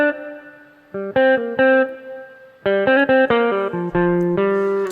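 Electric guitar played through reverb, with the effect panned mostly to the right, picks out clear sustained notes and short chord phrases that ring on with a lingering tail, loud and close.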